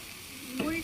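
Vegetables with salt and turmeric sizzle steadily in a hot pan in a village kitchen, then a louder scraping stir swells near the end.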